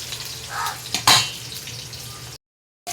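Papaya pieces frying in oil give a soft sizzle, broken by a sharp clink of a utensil against the pan, before the sound cuts off into silence.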